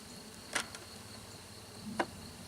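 Honey bees from a package crowd over hive frames with a faint, steady buzz, broken by two brief sharp knocks of frames being handled nearby.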